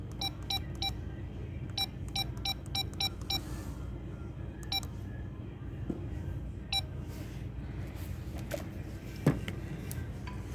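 Checkout scanner beeps at a Rite Aid register come in quick clusters, sharp and fairly close, over a low hum of store background noise with a faint clink or two.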